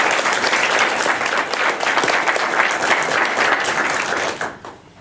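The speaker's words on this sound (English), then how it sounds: "So let's just give them another round of applause." Applause fills the room at a poetry reading event in Birmingham, Alabama, a dense and steady round of clapping that holds near and loud before fading out at the very end.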